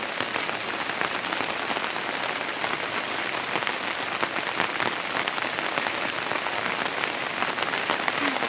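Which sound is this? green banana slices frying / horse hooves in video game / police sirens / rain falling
rain falling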